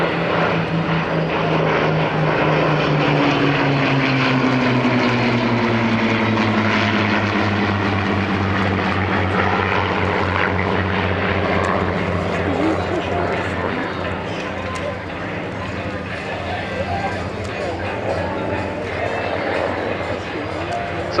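A Griffon-engined Spitfire runs at an air show, its deep propeller-engine drone loud and steady throughout with a shifting pitch as it passes, while someone talks over it.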